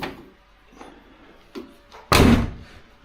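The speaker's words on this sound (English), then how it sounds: "I wonder if the door will close." A BMW 2002 car door swings shut with one loud, solid slam near the end, after a quiet stretch of faint handling noises and a few small knocks.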